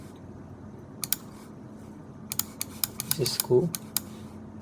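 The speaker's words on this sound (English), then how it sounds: "I'm just left clicking it and then selecting the points" Sharp computer mouse clicks come in quick, irregular bursts while points are selected on a QGIS map, close and crisp over a faint background hum, with brief speech mixed in.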